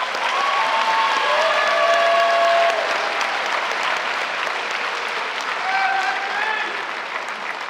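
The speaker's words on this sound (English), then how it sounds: "All right, you may applaud." A graduation ceremony audience applauds steadily, a dense and even wash of clapping from many hands with faint cheers and whistles rising above it.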